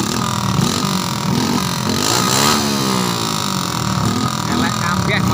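Several motorcycles riding together on a group tour to the beach, engines droning loudly and steadily with rising and falling pitch, with voices talking over them.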